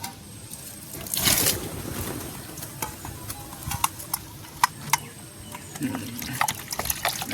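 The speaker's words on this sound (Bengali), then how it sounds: "একটু ভালো জল দিয়ে একটু ভালো করে ধুয়ে নিতে হবে" A pigeon is washed with water, giving soft splashes and light dripping with scattered small ticks and clicks, close by and fairly quiet.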